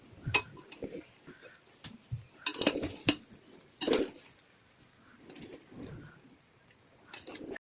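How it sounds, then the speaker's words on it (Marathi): A spoon scrapes and clinks against a pot while mixing rice pulao with fried masala, with irregular metallic taps and clatters, some sharp and close, between quieter stirring. "भात मिक्स करून घेऊया"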